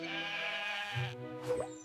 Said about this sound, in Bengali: শিপ মানে একটি ভেড়া।